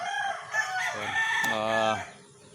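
A rooster crows loudly and close by, a long strained call, while chickens cluck around it.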